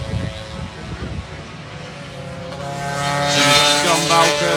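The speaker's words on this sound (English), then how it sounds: "here comes Ben, still circulating, so his exhaust is still holding together" A racing scooter at Pembrey circuit, still running with a suspect exhaust, drones past with a buzzy engine note. The sound grows from mid-distance to a brighter, louder pass near the end.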